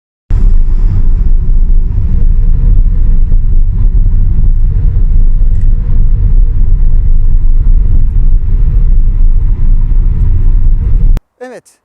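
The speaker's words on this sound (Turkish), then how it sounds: "Yani içeride sadece bir rüzgar sesi var." Loud, constant roar of wind and road noise inside a car with a rooftop tent mounted, moving at highway speed, steady throughout before cutting off abruptly at the end.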